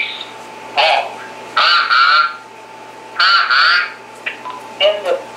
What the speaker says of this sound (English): Geese honk.